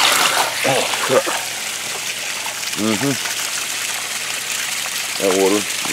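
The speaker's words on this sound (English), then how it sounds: "Now, I'm going to drain some of this water down here." Water drained in the cold early morning, gushing and splashing in a steady rush, with short voiced bursts breaking over it.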